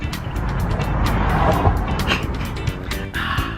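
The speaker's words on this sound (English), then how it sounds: "And more traffic." Road traffic with a car passing by, a steady engine and tyre rumble swelling and fading across the whole stretch, fairly close and loud, with no talk over it.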